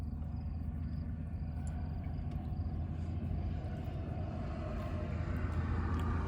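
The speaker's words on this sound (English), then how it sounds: "I don't know if you can hear, but again, a lot of trucks this morning coming by." Heavy trucks roll past on a road about four miles from the Mexican border in the morning, a steady low rumble with no breaks that fills the whole stretch at moderate distance.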